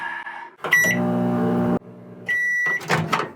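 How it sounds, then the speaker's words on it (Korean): A microwave oven hums loudly while heating castella sponge cake in a camper van setup running on an inverter, with a steady tonal drone that stops abruptly, a brief pause, then resumes alongside clattering handling noise. "요 카스테라 요거를 한번 전자레인지에 돌려보겠습니다"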